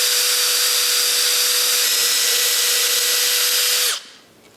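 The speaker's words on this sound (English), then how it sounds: "I will drill a hole and then put that nail in so we can hold things in place." A power drill bores a hole for a nail in a window frame of a tower room where glass is being fitted, a steady high whine running about four seconds before stopping abruptly, close and alone.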